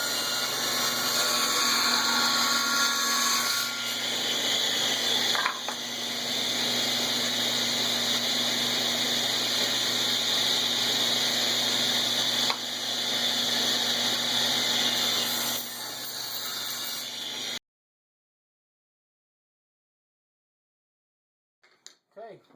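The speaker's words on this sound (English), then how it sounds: "we're just going to start cutting these down into strips, about 1 3/8 wide" Power saw ripping wood boards into strips about 1 3/8 inch wide for a segmented Christmas ornament, a loud steady whine running for about seventeen seconds before cutting off to silence.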